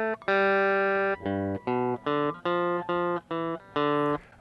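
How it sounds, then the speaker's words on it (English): Guitar plucking the La Bamba melody from tablature, a quick run of about nine distinct notes with clear gaps between them, close and bright, played alone. "you might recognize that the melody is from La Bamba"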